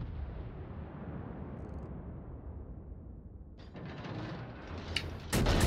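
Main battery salvo from a warship in World of Warships, heard as low rumbling booms under steady ambient noise, with a sharper, louder burst of fire near the end.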